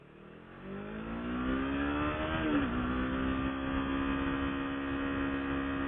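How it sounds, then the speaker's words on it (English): A car approaches and passes close by a stopped motorcycle, its engine swelling and shifting pitch over a steady electrical hum. "wait till this car passes."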